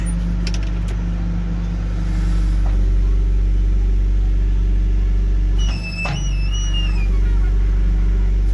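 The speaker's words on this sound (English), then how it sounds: "put it in the four-wheel drive, put the accelerator on, and then I just push" A four-wheel drive vehicle pushing against a tree holds a loud, steady low engine drone near the microphone, with a brief dip and surge partway through and some faint metallic clinks early on.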